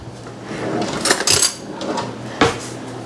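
Kitchen drawer opening with a wooden slide and rattling utensils, followed by a knife being picked out, a short clatter and a later clunk, close and fairly loud, with no talking.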